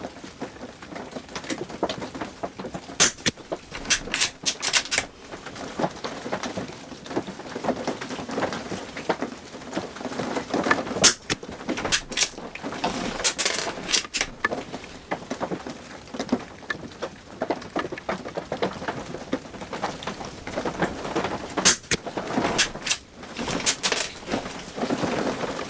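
Steady rain patters outdoors at a 30-metre rifle range where a Rossi and a Citadel .22 Long Rifle are being fired, a dense, even hiss of drops on surfaces with sharp bursts and crackles scattered throughout.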